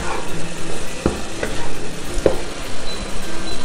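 Vegetables and turkey fry and sizzle in a pan for a lentil dish while a utensil stirs them, with a constant close sizzle broken by a few sharp scrapes and knocks.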